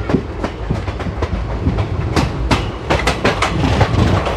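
Wheels of the 22137 Prerna Express clatter over rail joints in a steady rhythmic clickety-clack, loud and close, with sharp repeated clicks over a constant rumble and no voices.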